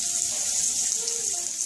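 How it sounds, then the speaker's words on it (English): A dredged pork chop sizzles in hot oil in a pan, a steady, loud hiss with no voices over it. "we're going to put it in the pan. And you hear that sizzling"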